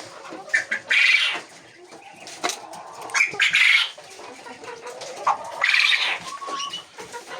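Laying hens in a coop, including Lohmann Brown and Lohmann Sandy birds, cluck and squawk in short close bursts, with intermittent rustling and clatter between calls.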